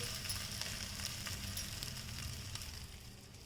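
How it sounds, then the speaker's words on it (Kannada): Field bean and puffed rice cutlet frying on a hot griddle with little oil, a soft, steady sizzle with faint crackles, quiet and without talk. "ಎಣ್ಣೆ ಬೇಡ ಅಂತ ಅಂದ್ಕೊಂಡ್ರೆ ನೀವು ಈ ಥರ ಕಟ್ಲೆಟ್ ಥರ ಹೆಂಚಿನ ಮೇಲೆ ಹಾಕಿಬಿಟ್ಟು ಈ ಥರ ನೀವು ಮಾಡಿಬಿಡ್ಬೋದು"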